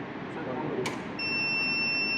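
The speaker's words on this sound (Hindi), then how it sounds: "अलार्म कंटिन्यू बजता रहेगा, सप्लाई को ऑन नहीं करेगा" An electrical safety device alarm for live-wire contact and grounding goes off partway through as a steady, piercing high-pitched tone over a low background hum.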